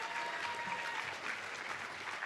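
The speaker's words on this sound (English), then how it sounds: "Give her a round of applause." An audience at a city mayor's State of the City address breaks into steady, dense applause, a continuous wash of many hands clapping with no voices over it.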